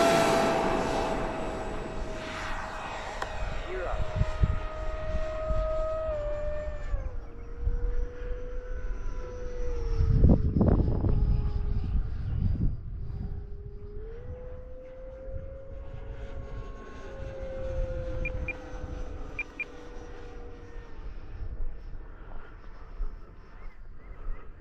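An FMS BAe Hawk radio-controlled model jet flying overhead, a whining electric ducted-fan tone that rises, falls and shifts pitch as it passes near and far, with a louder pass around the middle.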